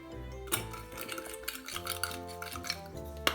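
Utensil scrapes and clinks against a bowl while sesame seeds, sesame oil and sugar are stirred together, with irregular close taps and a sharper knock near the end, no voices.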